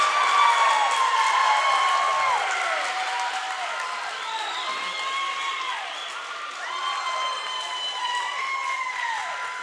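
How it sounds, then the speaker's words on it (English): Home crowd at a high school volleyball match roaring after retaking the lead, loud cheering and clapping, with repeated whistle-like rising and falling calls over the din. "hear the roar from the Tuttle crowd as they have retaken the lead"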